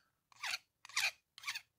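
Metal file rasping on tin, three distinct short scraping strokes, close and crisp, separated by brief silences.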